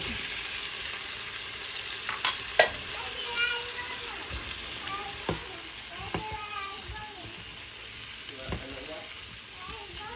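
Beans and carrots stir-frying in a pan for pancit bihon, a steady sizzle with scraping stirs and a few sharp clatters of the utensil against the pan, heard close and alone.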